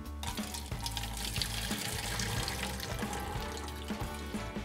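Hot soaking water drains off glass noodles for Korean japchae, pouring and splashing steadily into a sink at close range, with no voices.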